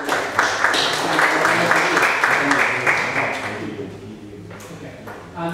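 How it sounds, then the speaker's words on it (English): A crowd applauds with steady clapping that gradually thins out and fades toward the end. "So we just do a round of applause."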